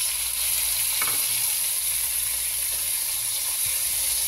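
Tomatoes go into a pan of sautéing garlic and onion, where they produce a steady, even sizzle with a couple of faint stirring clicks and no voices.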